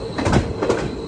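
Rajya Rani Express rumbling into Angadipuram railway station, with a loud close rolling rush and rhythmic thumps of carriages passing, no voices.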